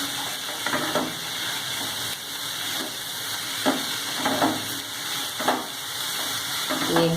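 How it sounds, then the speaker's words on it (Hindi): Rice sizzles steadily in a hot pan during a Schezwan fried rice stir-fry, with periodic scraping strokes of stirring cutting through the constant frying hiss. "चावल ऐड करेंगे और चावल को चलाते जाएंगे थोड़ा थोड़ा डालने के बाद"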